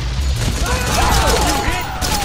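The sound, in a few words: gunfire, suppressing fire in a firefight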